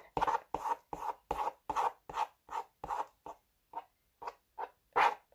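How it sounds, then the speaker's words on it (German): Thick slime being stirred in a container, giving a steady series of about a dozen short sticky squelching strokes at a regular rhythm, close and fairly quiet. "ich verrühre das Ganze einmal, weil wenn die Konsistenz fest ist, lässt sich das nicht mehr so gut einmassieren"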